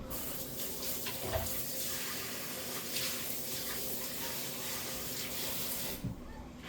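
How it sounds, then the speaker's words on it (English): Hands being rinsed under a running kitchen tap, a steady hiss of water splashing into the sink that continues evenly for several seconds and then cuts off near the end. "I'm going to wash them again just so they can be nice and wet when I touch the dough"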